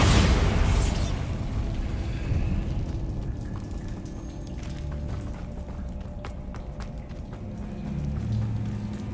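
A Bombarda spell explodes in Hogwarts Legacy with a loud, broadband blast at the start that fades into a rumbling tail, followed by softer in-game movement and ambient noise.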